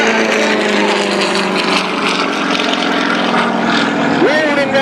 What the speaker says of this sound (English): The synchro pair, Yaks 3 and 4, Jim Schofield and Nick Barnard.